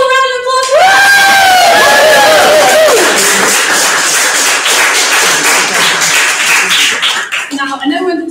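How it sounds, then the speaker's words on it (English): Crowd at a graduation launch event cheers and whoops loudly, then breaks into sustained clapping and shouting that stays strong before easing off, with voices rising at the start and end. "So can we give them all a round of applause?"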